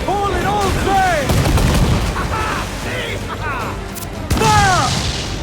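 Booming ship cannon fire in Assassin's Creed 4 Black Flag, several heavy blasts in a naval battle mixed with shouting crew voices over a constant rumble of sea and wind.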